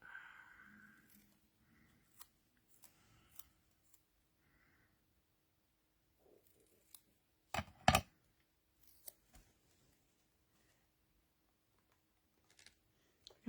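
Scissors snip paper trimmings for a craft grid page in short, scattered cuts, with a sharper cluster of snips midway and long quiet gaps between them.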